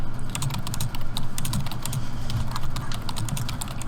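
Rapid, uneven clicking of keys on a computer keyboard as someone types continuously, close and clear, with a faint low background hum and no talk.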